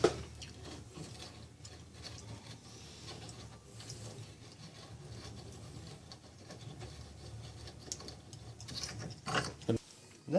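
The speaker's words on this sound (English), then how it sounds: "you can really hear it cutting into the metal at this point" A tool grinds and rasps into the steel of a tactical shotgun barrel while a choke is being cut, with uneven scraping and ratcheting bursts, fairly quiet and close, rising to louder knocks near the end.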